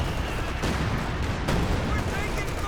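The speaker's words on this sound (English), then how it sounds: "No, that's major artillery, I think." Artillery fire in a Company of Heroes 2 2v2 match, a dense rumble of thudding blasts and crackling shots with a couple of sharper impacts, over a continuous battle din.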